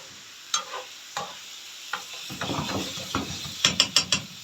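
Liver stirred in a cooking pot: a series of sharp spoon scrapes and clinks against the metal, sparse at first and then quicker and denser toward the end, over a faint background sizzle.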